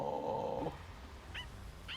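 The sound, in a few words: dog barking in Spy x Family anime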